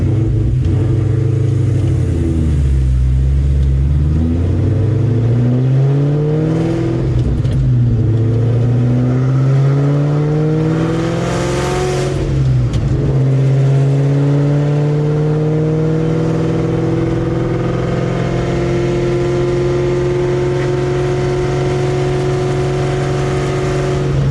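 A cammed, boosted Ford Terminator Cobra engine revs and accelerates up through the gears, loud and close with steady rising and falling pitch sweeps and brief dips between shifts, no talking.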